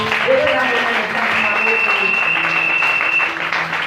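A church congregation claps steadily together, loud and continuous, while voices cheer and call out over the clapping.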